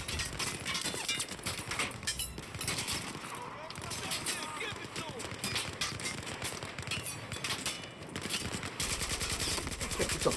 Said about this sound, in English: It's a fucking shooting.